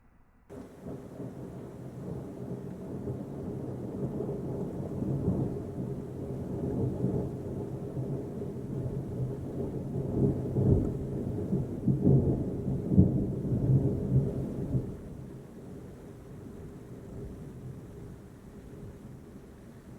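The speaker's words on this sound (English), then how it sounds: "Now that is some big lightning and thunder." Thunder from a thunderstorm over Troutdale, Oregon rolls on for about fifteen seconds, a deep, sustained rumble with crackling peaks near the middle, and rain keeps falling after it fades.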